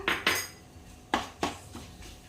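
A spoon stirs chili and turmeric powder in a pan, striking and scraping the metal in a few sharp clinks spaced unevenly, close by with no talking.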